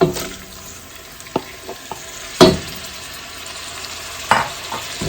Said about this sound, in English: Now we'll go ahead and add our chopped tomatoes.